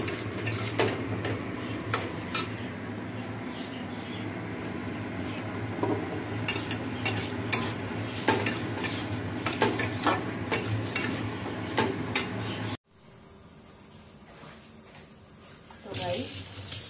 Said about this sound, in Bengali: এবার মশলা দিয়ে কষাচ্ছি।